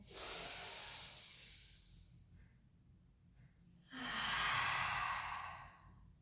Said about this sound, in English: inhale, let the belly rise. Out breath, release.